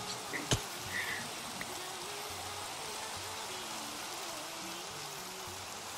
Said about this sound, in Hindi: ए बारिश रुक जाओ।